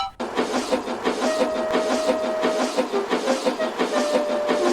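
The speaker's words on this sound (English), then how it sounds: "Mighty Mac took Millie all the way to the steamworks." A train rolls steadily along with rhythmic clattering of wheels over rail joints and a faint whistle-like tone, continuous and fairly loud.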